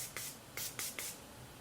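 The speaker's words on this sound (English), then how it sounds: "And we are taking the Morphe Continuous Setting Spray." Morphe Continuous Setting Spray misted during a makeup routine: four short, soft hissing pumps in an uneven rhythm, quiet and close up, with nothing else heard.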